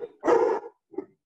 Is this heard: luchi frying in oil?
no